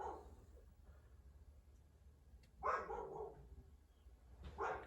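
Dogs bark at a household during an RC car unboxing, two bursts of barking at moderate distance separated by a quieter stretch with low background rumble.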